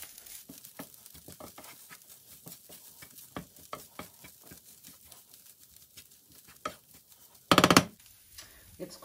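A spoon stirs a sizzling vegan chili mixture with freshly added spices in a frying pan, giving steady scraping and pattering strokes over a soft sizzle, with a louder burst of clatter near the end.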